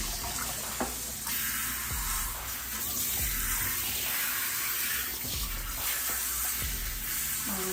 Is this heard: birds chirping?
no